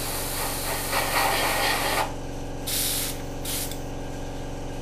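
Airbrush spraying paint onto the top of a Tamiya 1/35 M1A1 Abrams scale model: a loud, steady hissing jet for two seconds, then two shorter bursts after a pause, over a constant compressor hum.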